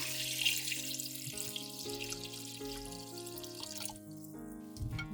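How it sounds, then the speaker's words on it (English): Running tap water splashing into a sink as chicken feet are rinsed, a continuous close wash with small drips and clinks mixed in, no voices. "Then, wash the chicken feet again."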